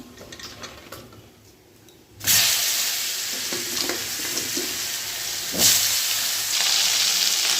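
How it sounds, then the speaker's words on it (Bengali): Black cumin seeds and vegetables hitting hot oil in a Bengali kitchen: after a quiet start, a sudden loud burst of sizzling hiss that stays strong, with a second surge midway and faint stirring beneath. "এবারে এই তেলের মধ্যে একটু কালো জিরে ফোড়ন দেব, এই সবজিগুলো দিয়ে দেবো।"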